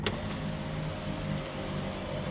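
The panoramic sunroof of a 2016 Kia Optima SXL closes with a steady, quiet electric motor whir heard from inside the cabin, starting with a brief click.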